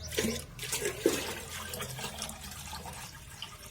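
Water splashes and gurgles as it is poured, with a few louder sloshes early on and a softer trickling flow afterward.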